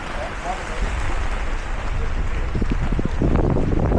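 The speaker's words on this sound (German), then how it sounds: "Also hier ist es auch extrem windig." Strong wind buffeting the microphone at the Oschersleben race track during a rainy classic motorcycle meeting, a loud continuous roar with heavy low-end gusting that builds toward the end.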